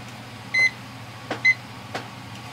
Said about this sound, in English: Oh, we need to turn the timer on.